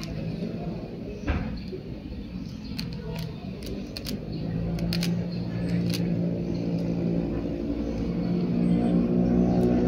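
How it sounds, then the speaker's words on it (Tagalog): Traffic on a nearby highway, heard from a hotel poolside in Puerto Princesa, Palawan, makes a continuous low rumble of passing cars that swells gradually, with occasional faint clicks and taps. "Rinig mo ang highway. Rinig mo mga sasakyan."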